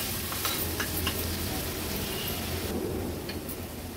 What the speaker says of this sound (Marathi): कांदा छान आपल्याला शिजवून घ्यायचा आहे।